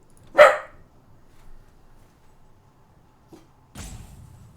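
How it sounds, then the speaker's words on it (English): A dog gives a single sharp, close bark, followed by near silence, a faint click and then a rougher rustling burst near the end. "Don't bark at me."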